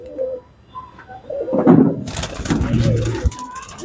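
Large pigeons in a loft cooing softly, a few low coos near and faint, followed by rustling and a sliding, door-like noise.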